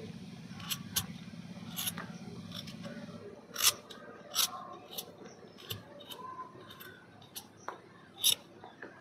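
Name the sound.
peeling vegetables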